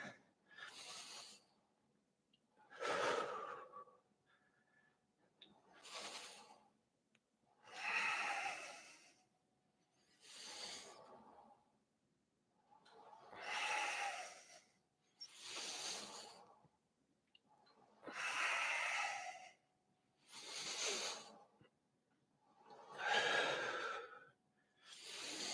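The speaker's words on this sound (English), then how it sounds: "exhale as we come back in" Steady, controlled breaths during a full-body Pilates workout on a reformer: about ten slow inhale-exhale cycles, each a breathy rush a couple of seconds long with short pauses between, close and soft, with no talking.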